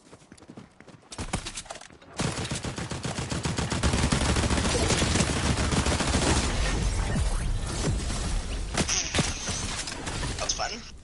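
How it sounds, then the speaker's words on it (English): Rapid pistol gunshots in a video game crack out in dense repeated bursts over a busy game soundtrack, loud and close, continuing for several seconds after a quieter opening. "This fucking pistol is nasty."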